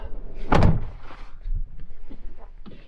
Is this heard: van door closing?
yes